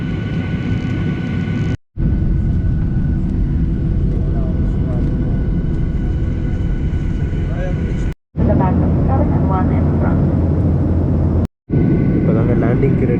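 A passenger jet's engines run with a loud, steady rumble as the plane prepares for flight on a snowy day, with a voice speaking over the drone and short gaps in the sound.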